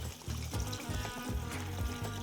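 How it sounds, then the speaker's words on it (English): Water pours steadily into a pot of chili con carne with beef in sauce, a continuous trickling stream with a few louder splashes, close and alone without voices. "Now we're going to add some water, because we want our beef to be completely submerged in our sauce."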